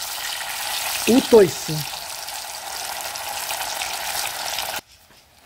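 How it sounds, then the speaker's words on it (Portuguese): Cassava fries in a pan with a steady, even sizzle that hisses throughout. A short spoken phrase cuts in near the start, and the frying stops abruptly near the end. "vou fritar aquela mandioquinha"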